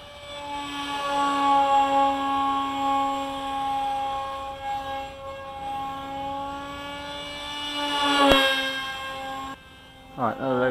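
An RC F-22 pusher-prop jet model makes a low pass, its propeller giving a steady buzzing drone with strong harmonic whine that swells and shifts pitch as it passes close, then a brief clatter near the end.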